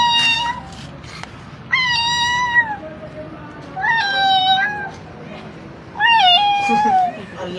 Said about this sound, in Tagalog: Ang laking pusa niyan, boy ah.